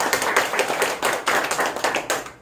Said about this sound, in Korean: 이정단, 김수기, 서민정 성도님들께도 전도하여서 감사하다고 박수.